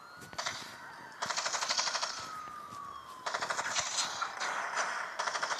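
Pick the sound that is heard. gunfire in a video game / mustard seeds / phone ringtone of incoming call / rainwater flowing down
gunfire in a video game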